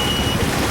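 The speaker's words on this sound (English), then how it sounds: "If anybody's wondering what that beep is, it looks like we may have a faulty coolant temperature sensor." A steady electronic warning tone from a sailboat's engine, triggered by a faulty coolant temperature sensor, holds a single continuous pitch over a constant low engine rumble.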